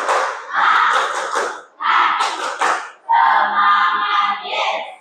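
A class of students in a madrasah maths lesson does a rhythmic spirit clap together, three loud bursts of group clapping and shouting separated by brief gaps.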